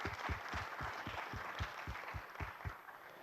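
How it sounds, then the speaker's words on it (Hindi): Audience applause at a conference event, a steady wash of many hands clapping, fairly faint, with a rhythmic low thumping pulse running beneath it. "आप सब लोगों के लिए तालियां।"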